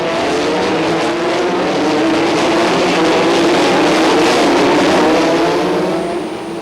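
A pack of 1988 French championship Formula 3 race cars roars loudly through a hairpin, engines blending into a dense, continuous high-revving drone that swells and then eases slightly at the end.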